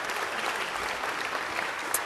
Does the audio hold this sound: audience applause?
yes